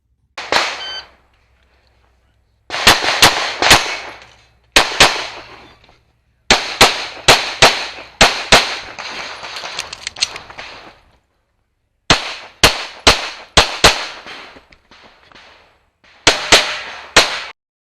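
Pistol shots ring out on a stage of a state IDPA championship match, sharp loud cracks in quick bursts of two or three, separated by short pauses for movement, with faint metallic clangs from steel targets.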